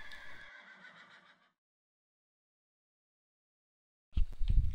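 Horse in Minecraft neighing inside a house, a short whinny that fades into silence, followed after a pause by a sudden burst of louder thumping and hooflike clatter.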